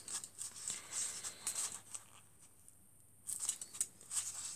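Scissors trimming excess material from an Easter sheep decoration, with quick, crisp snips in two clusters separated by a short quiet gap, close and without talk.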